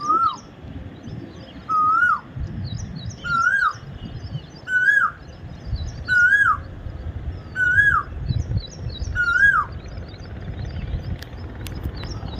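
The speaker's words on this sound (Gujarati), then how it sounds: "મિત્રો કોયલ બોલતી હોય ને એટલે એને સાંભળવાની મજા જ આવી જાય" An Asian koel calls on a village farm near Botad, repeating its rising, whistled two-note cry about every second and a half, clear and close, over low background noise from the farm.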